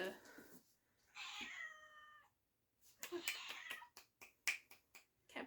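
A house cat meows a few times up close, drawn-out calls broken by short clicks and rustles in a quiet room, with a person's voice faintly present.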